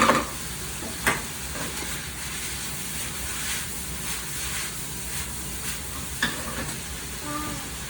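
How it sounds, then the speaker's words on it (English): Mushrooms and other ingredients for Cantonese sticky rice sizzle steadily in a hot pan, with an even hiss throughout and a few sharp clinks of the utensil scraping as they are stirred. "So we're still cooking the mushroom right here, and the rest of the stuff."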